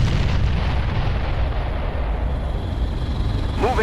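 A Hoverdyne vehicle exploding in the game Ground Control, a loud, sustained rumbling blast with dense low roar filling the whole moment amid battle noise.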